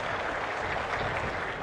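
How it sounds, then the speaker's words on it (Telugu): An audience at an official meeting bursts into dense, sustained applause, a loud even wash of many hands clapping together without talk. "గట్టిగా చప్పట్లు కొట్టి చేసిన దానికి అభినందిద్దాం"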